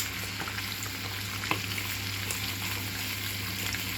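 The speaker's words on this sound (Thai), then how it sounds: "มันนี่ก็ใส่ไข่ลงไปหน่วยนึงจ้ะ" An egg sizzles and fries in butter alongside instant noodles in a pan, a steady close crackling hiss with a few small pops and stirring clicks, and no talking.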